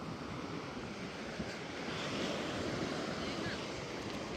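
Sea waves wash up on a beach on Havelock Island in the Andamans as a continuous broadband roar of surf with wind rush, a faint voice murmuring beneath it.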